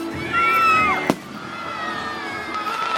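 A single sharp firework bang bursts once amid the excited chatter and shouts of young children outdoors, with a soft whistling glide just before it.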